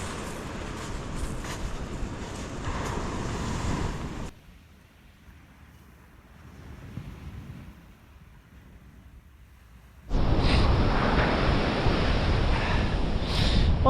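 Surf breaking on Slapton Sands under a chilly northeast wind, a loud broadband wash that cuts out to faint low rumble for several seconds and then returns strongly.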